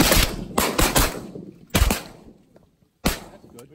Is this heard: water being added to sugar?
no